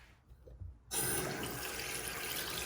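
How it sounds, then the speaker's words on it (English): Hot water gushes from a tap into a sink, starting abruptly after a moment of faint handling noise and then flowing steadily, close and fairly loud. "Some hot water."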